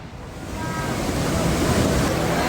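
Lahar from Semeru rushing down the Rogoyo River channel at Gondosuro village, Pasirian, Lumajang, East Java: a steady, loud, close roar of churning water and debris that builds slightly and never lets up.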